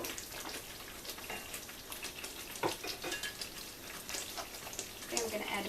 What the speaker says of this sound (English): So you just have to keep on simmering like this